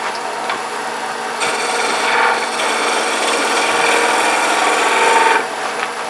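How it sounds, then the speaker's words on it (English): A skew chisel smooths a spinning wood cylinder on a lathe for a turned box, giving a steady, close scraping hiss that rises and dips slightly as the tool comes on and off the wood, with no talk. "So I'm going to just smooth my cylinder."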